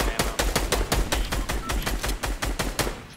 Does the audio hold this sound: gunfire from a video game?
yes